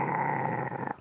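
A performer's voice imitates a dog-like growl during a mime, one steady throaty rumble held close and loud for about a second before it breaks off.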